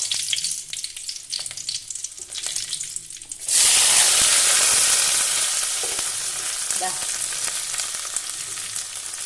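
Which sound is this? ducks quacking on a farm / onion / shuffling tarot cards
onion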